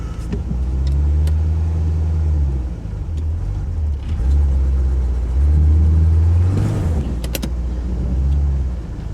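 A Corvette engine runs after an engine-bay fire, idling with a loud, steady, low rumble that dips and swells in short revs, with faint mechanical clicks on top.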